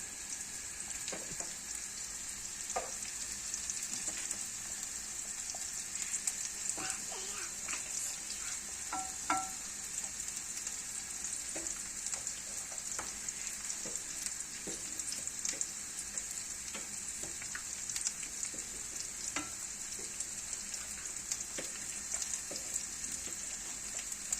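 Onions and mushrooms fry in oil in a pan while a mushroom meze is cooked. A steady, soft sizzle hisses throughout, with small crackles and pops scattered across it and no voices.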